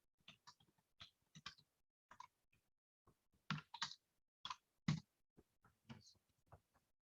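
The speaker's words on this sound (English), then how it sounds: "so I'll be typing my information in" Keys tapped on a computer keyboard while logging into an online homebuyer portal, a sparse run of close, crisp clicks in short bursts with brief pauses, no voice over it.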